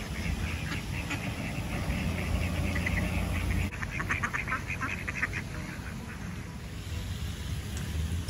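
Ducks quacking in repeated clusters of nasal calls over steady outdoor background noise, moderately near, with no talk.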